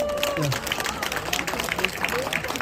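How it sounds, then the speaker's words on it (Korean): Applause at a neighborhood festival in Seongnae-dong, Gangdong-gu, heard under a speaker's amplified voice, a scattered outdoor crowd clapping at moderate level behind the talk. "뜨거운 박수 한번 드리죠."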